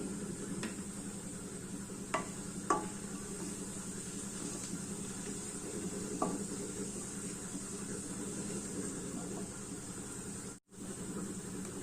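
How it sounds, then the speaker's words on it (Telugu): Cumin, mustard seeds and chana dal crackle faintly in hot oil, a soft continuous sizzle with a few sharp pops and a utensil tap or two. "పోపు దినుసులు వేసుకోండి కరే జీలకర్ర ఆవాలు కొంచెం శనగపప్పు వేసినానండి"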